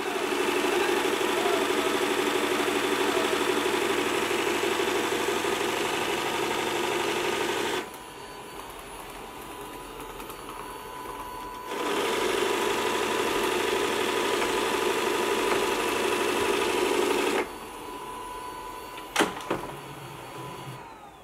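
A robot vacuum's self-emptying dock runs its suction motor in loud, steady broadband bursts, about eight seconds on, a short pause, then another long roar, with a few clicks near the end.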